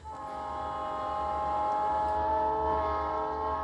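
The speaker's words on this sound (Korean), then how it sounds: "기차가 오지 않습니까?" A train approaches with its horn sounding in one long, sustained chordal blast over a low rumble, growing gradually louder, played as a sound effect in a Korean radio drama, with no voices.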